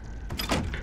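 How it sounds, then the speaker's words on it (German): In the horror video game Resident Evil 7, a locked door is tried and rattles without opening: a short clunk of the handle followed by a couple of metallic knocks and rattles, close and brief. "Wieso geht die Tür nicht auf?"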